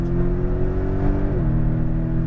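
A Porsche Cayman GTS engine drones loudly and steadily from close by on a track, its pitch holding and then dropping briefly midway before carrying on.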